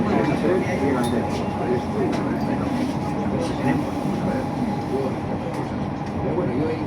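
Metro train at a station platform on the Lutxana–Plentzia line, a steady rumbling hum with clanks and squeaks, while a voice talks over it.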